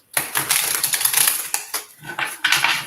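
Rapid papery riffling and soft slaps from a deck of cards being shuffled up close, in a few quick bursts with short pauses.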